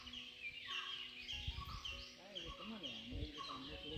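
Birds, parrots among them, calling from trees in a village, with chattering and squawking calls mixed with background noise and occasional voices talking.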